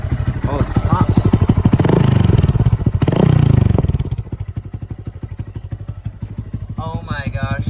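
A motorcycle fitted with a new eBay aftermarket exhaust idles and revs loudly up close, with throaty surges and some popping, under a speaking voice.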